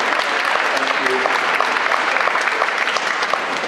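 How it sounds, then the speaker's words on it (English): Audience applause at a school summer concert, a dense, steady wash of clapping from a large crowd that fills the whole stretch at even loudness. "Give yourself a round of applause as well."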